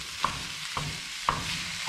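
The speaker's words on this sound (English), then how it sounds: "we're just gonna cook that until it's sauteed" Meat for chilli con carne sautéing in a pan, a soft steady sizzle broken by three sharp utensil taps against the pan, close and without talk.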